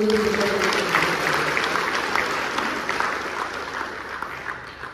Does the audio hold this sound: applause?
yes